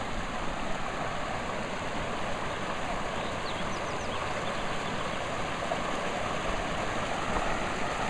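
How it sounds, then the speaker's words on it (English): Water from a small waterfall by a stream pours steadily, a constant broadband rush heard close and evenly throughout, with no voices over it. "found a nice waterfall here"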